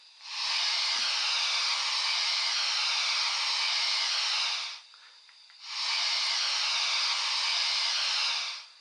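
Drain cocks on a Bachmann GCR 11F model steam locomotive release two long, loud, even bursts of steam hiss, separated by a brief pause with faint mechanical clicks.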